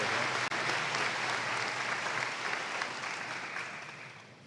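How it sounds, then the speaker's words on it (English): Sustained applause from a commencement audience honoring a summa cum laude graduate at a winter graduation ceremony, a steady dense clapping that holds for several seconds and tapers slightly at the end. "Let's give a round of applause once more to our remarkable summa cum laude graduate."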